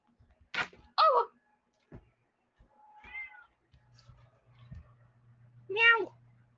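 Several distinct meows from a cat, spaced apart with quiet gaps, a few soft thumps and a low hum in between.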